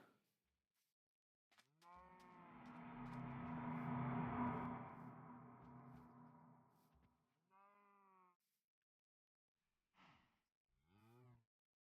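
Cows in Minecraft let out a long, loud, drawn-out moo followed by several shorter, fainter moos at intervals, with no voices over them.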